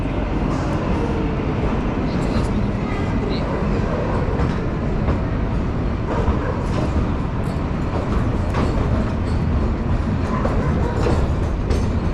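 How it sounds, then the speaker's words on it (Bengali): A narrow-gauge toy train on the Shimla–Kalka line rolls along its rails after leaving Shimla station, steady rumbling and clattering heard from on board, continuous and fairly loud throughout. "আমাদের ট্রেন কিন্তু সিমলা স্টেশন ছেড়ে এবার এগোচ্ছে"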